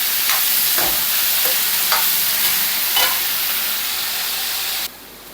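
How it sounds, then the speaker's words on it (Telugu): A spoon scrapes and stirs beans through a spice tempering in a hot frying pan, several distinct strokes over a steady loud frying hiss that abruptly drops off. "ఈ పోపు అంతా ఈ బీన్స్కి పట్టే విధంగా కలిపేసుకోవాలి"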